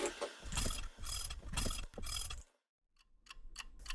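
A clock mechanism ratcheting, with bursts of close, crisp mechanical clicking and whirring in rapid clusters, a short silent gap, then quieter ticking clicks resuming.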